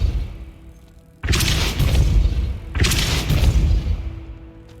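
Two heavy booming impacts from a Repulso spell in Hogwarts Legacy, each a loud, close, rumbling blast that swells and then fades over about a second and a half, with a short quiet gap between them.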